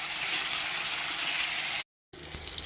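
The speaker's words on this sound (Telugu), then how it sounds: "దానిలోకి కొద్దిగా పసుపు, కొద్దిగా అల్లం వెల్లుల్లిపాయ పేస్ట్ వేసుకొని ఇలా ఎర్రగా వేపుకోవాలి." Onions sizzle and fry steadily with turmeric and ginger-garlic paste for a ridge gourd curry, a dense continuous hiss that cuts out briefly and then resumes.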